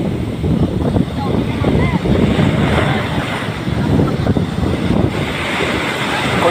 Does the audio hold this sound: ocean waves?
yes